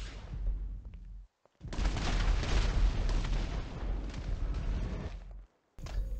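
An Iron Man rocket blast slams into Alien X in GTA V, a loud roaring burst of explosive noise lasting a few seconds, cut by brief silent gaps before and after, with no talk over it.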